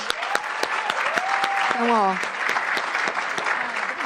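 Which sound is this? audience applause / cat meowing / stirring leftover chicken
audience applause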